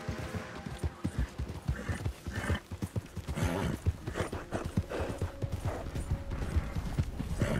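Horse hooves clip-clop in a steady, rapid rhythm in the video game Red Dead Redemption 2, the galloping loud and continuous over game ambience.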